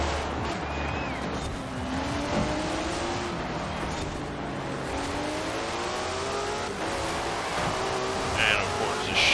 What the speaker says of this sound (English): the Chiron, which is 90 million horsepower, is able to power away